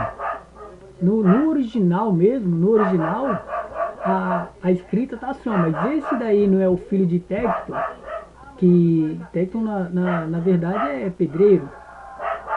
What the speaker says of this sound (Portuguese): eu quero pedir desculpa pelo latido dos cachorros aqui dos vizinhos